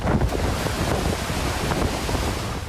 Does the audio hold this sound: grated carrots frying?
no